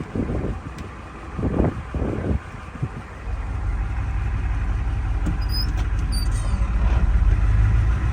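1973 Ford F250 truck engine on a low-geared drive, starting with a few choppy bursts and wind buffeting, then settling into a steady low rumble that builds gradually louder.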